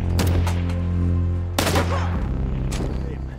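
Gunfire in a sniper action film as agents fight off enemies, several sharp shots over sustained low music, with a loud burst near the middle and another crack toward the end.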